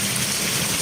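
Heavy rain pouring in Intramuros, Manila, a dense continuous hiss of drops that stays loud and close for the brief moment, with nothing else over it.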